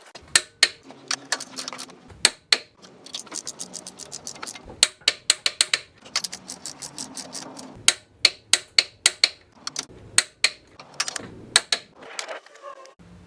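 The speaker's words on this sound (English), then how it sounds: "The 17mm nuts get torqued down to 42 pounds" A torque wrench ratchets as 17mm nuts are tightened on a transmission being installed, giving bursts of rapid close clicking with short pauses and a few sharp louder clicks.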